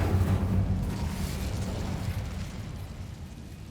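The Incendio fire spell cast in the video game Hogwarts Legacy: a loud, roaring, fiery burst that whooshes out at full strength and slowly fades over a few seconds, with no voices.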